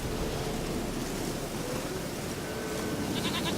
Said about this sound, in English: Here, goat.